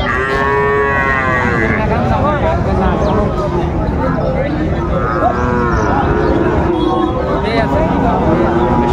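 A Sahiwal bull moos at a busy cattle market in Chattogram, with several long, loud, wavering moos rising and falling over a constant hubbub of crowd chatter and nearby voices.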